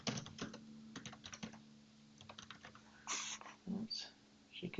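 Keys clatter on a computer keyboard in short bursts and steady taps while someone types a document title, with brief pauses and a few louder clicks near the end.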